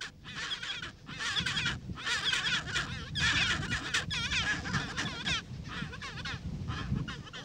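A pair of penguins trade loud, braying greeting calls in rapid, overlapping bursts that carry on without pause, close and harsh against a windy background.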